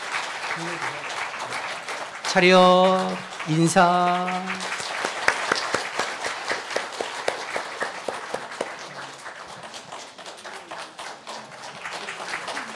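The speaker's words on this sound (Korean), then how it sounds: "우리 박수로 축하하겠습니다." Church congregation applauding during a Sunday worship service after new members are welcomed, sustained clapping under spoken instructions that continues after the talk stops.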